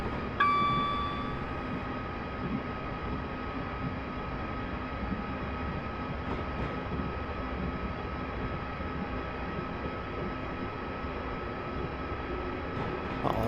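Rail cars in Train Simulator picking up speed make a steady, droning engine and rolling hum with a faint high whine, continuous and fairly even throughout, with no talking.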